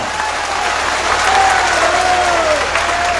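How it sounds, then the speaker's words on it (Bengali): Steady, dense clapping from a large crowd at a political rally, loud and continuous throughout, with a faint whistle rising above the applause. "একবার হাততালি হয়ে যাক জুডিশিয়ারির জন্য"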